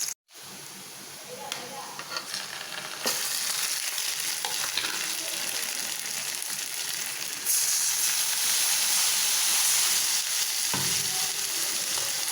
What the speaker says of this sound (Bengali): এই যে তেল গরম হয়ে গেছে, দিয়ে দিব পেঁয়াজ।